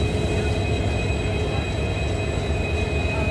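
Train at Lucknow railway station at night: a steady low rumble with a faint high whine, continuous and moderately loud throughout, with no talk.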